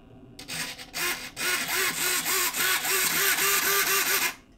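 An RC servo steers a car's front wheels under controller input, giving a close series of short whirring motor buzzes that rise and fall in pitch, repeated in quick succession, loud and alone.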